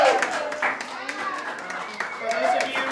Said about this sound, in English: can we give a big round of applause to you two?